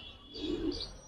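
A Giribaz pigeon gives a single short, soft coo nearby, with faint chirping above it.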